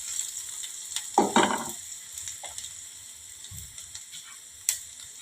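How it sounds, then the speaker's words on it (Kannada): Curry leaves tossed into a hot pan, a soft, steady frying crackle throughout with a louder spattering burst early on and a few scattered clicks of a utensil. "ಕರಿಬೇವು ಹಾಕ್ತೀನಿ. ಈಗ ಇದು ಮಸ್ತ್ ಫ್ರೈ ಆತ."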